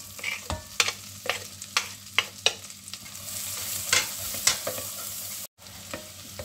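Shallot pieces frying gently in melted butter in a saucepan, a soft steady sizzle broken by sharp clinks and scrapes of stirring, with a brief dropout near the end.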